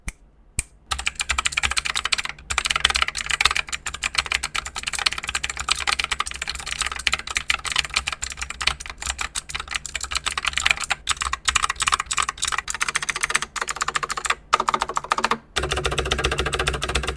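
Rapid, continuous typing on a clicky Thunderobot K104S mechanical keyboard with TR Blue switches, with sharp individual key clacks in an uneven rhythm, close and fairly loud, with no talking.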